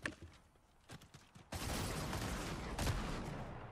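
Fortnite gunfire: a few scattered shots at first, then a loud, sustained burst of rapid automatic fire that continues to the end.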